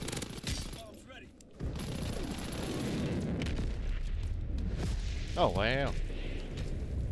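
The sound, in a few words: V2 rocket explosion in video game Call of Duty: WWII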